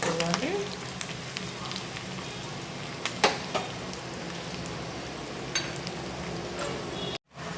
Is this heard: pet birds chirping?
no